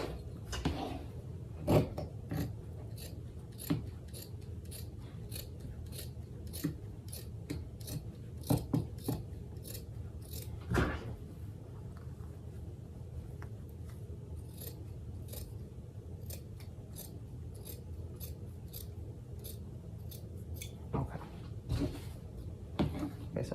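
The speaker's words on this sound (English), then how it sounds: "If you have good scissors." Quiet, repeated snipping of scissors cutting fabric, sharp clicks spaced fairly steadily over a low background hum.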